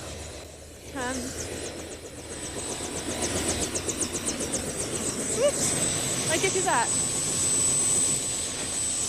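A helicopter's rotor and engine roar builds steadily with rhythmic chopping, loud and close, while people talk over it, in County Kerry, Ireland.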